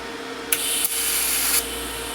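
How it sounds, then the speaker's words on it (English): Pulse TIG welding with an R Tech TIG 160 welder, a steady high hiss of the arc that starts abruptly and holds for about a second before cutting off, loud and close over a low hum. "Right, next is a pulse weld"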